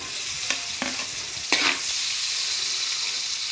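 Onion frying in margarine in a pan with garlic, a continuous close sizzle broken by several sharp scrapes and clacks of a spatula stirring, one louder burst partway through, no talk.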